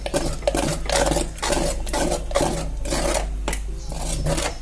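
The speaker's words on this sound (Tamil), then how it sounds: "கட்டி இல்லாமல் நல்லா கலக்கி விட்டுக்கணும்." Wheat kali batter being stirred in a pot so no lumps form, a steady scraping and swishing of a spoon against the metal in repeated rhythmic strokes, close and fairly loud with no voices.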